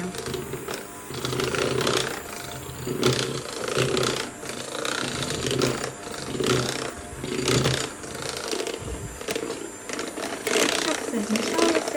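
An electric mixer whirs steadily as it beats chocolate cocoa cupcake batter in a bowl, its motor drone rising and falling close by, with a person talking over it.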